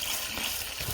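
Acid peroxide gold recovery solution pours in a steady, close, gushing liquid stream, unbroken and alone for the whole second.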